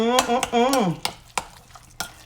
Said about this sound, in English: go ahead and stir this all up